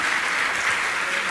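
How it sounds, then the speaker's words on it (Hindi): A large audience claps steadily and densely in a hall, a continuous wash of applause with no breaks. "तालियां अच्छे से बजाइए"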